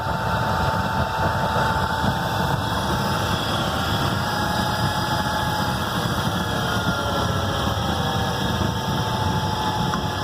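Homemade oil burner built from an old Freon tank warming up, a steady roaring hum with a faint high whine, constant and close for the whole stretch with no talk.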